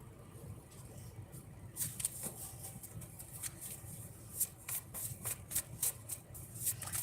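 A deck of cards being shuffled nearby, soft riffling and patting in quick irregular bursts that grow busier in the second half, quiet and close with no talk.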